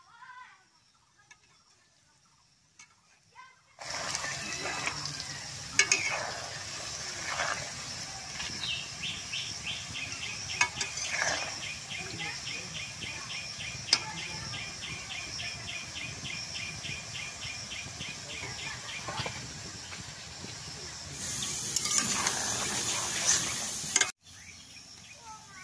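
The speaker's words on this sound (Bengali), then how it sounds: "এখন আমি অল্প অল্প করে নাড়া দিয়ে দিব" Modan kotkoti, a Bengali snack, fries in hot oil while being stirred, giving a steady loud bubbling hiss with scraping and clinks, the fizz swelling louder near the end before cutting off abruptly.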